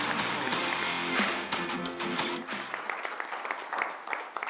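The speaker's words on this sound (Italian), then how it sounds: "Facciamo un applauso al tennis." Applause for tennis during a sports broadcast, a few seconds of scattered clapping that thins out and fades toward the end.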